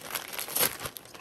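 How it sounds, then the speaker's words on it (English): Gift wrapping on a present is crinkled and torn open in a short burst of crackling paper, close and fairly soft, with a sharper rip in the middle. "So we're going to open Pimp's present"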